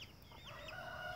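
A young hen gives a few soft clucking and warbling calls, close by and fairly quiet, with no voices.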